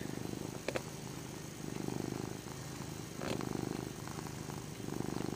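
A cat purrs softly and steadily at close range, a low rhythmic rumble continuing alone with a couple of faint clicks.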